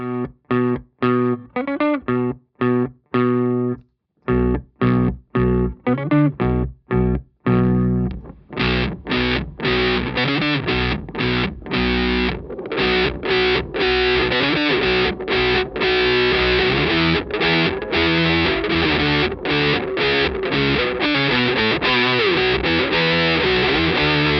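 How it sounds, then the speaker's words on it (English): Heavily distorted electric guitar through octave and fuzz pedals with a thick, octave-boosted mid-range tone, choppy stabbed chords at first, then sustained driving riffs, loud and upfront. "you can hear how it's giving us that Octave boosted mid-range tone"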